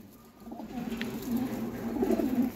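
A high-flyer pigeon coos in a soft, low, rolling burble that repeats several times. The bird sounds close but quiet, with faint background noise behind it.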